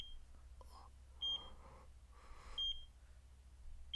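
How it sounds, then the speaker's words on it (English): A hospital monitoring device in the video game Chaos;Child gives short, high electronic beeps at regular intervals, about three in four seconds, over a quiet low hum and faint breathy sounds. "I could hear a monitoring device near her,"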